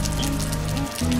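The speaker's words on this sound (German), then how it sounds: "Und es regnet." A soft, constant patter of raindrops sits beneath slow stepping low notes, fairly quiet and uninterrupted by speech.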